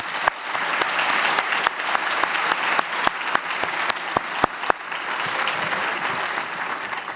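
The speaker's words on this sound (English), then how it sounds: "How about a round of applause?" A large audience at a Texas master's programs commencement ceremony claps steadily for several seconds, a dense even wash of hands with a few sharper individual claps standing out before it tapers slightly.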